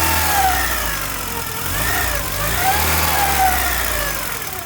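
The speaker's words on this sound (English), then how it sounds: "We've got a functioning engine once again, which is great." A rebuilt Volkswagen Golf GTI engine runs just after its first start, a steady close mid-pitched idle with gentle rises and dips in revs, heard alone without speech.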